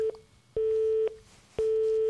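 A telephone busy signal sounds after a hang-up: two clear, evenly spaced beeping tones with short gaps between them, faint and alone with no voices.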